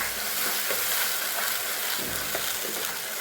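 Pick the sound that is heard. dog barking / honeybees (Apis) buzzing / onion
onion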